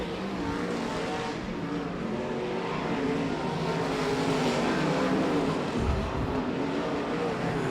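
Sprint cars race on the Arizona Speedway dirt track in an ASCS Desert Sprint Car main event, a dense continuous engine roar from the passing field that holds loud and steady throughout.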